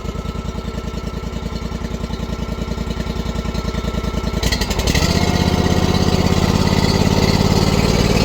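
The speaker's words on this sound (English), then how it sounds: "I would prefer to do most of the digging with the machine. So I am going to get this fired up" The engine of a small digging machine chugs close and loud in a steady, rapid idle rhythm, then revs up into a fuller, heavier running drone that holds to the end.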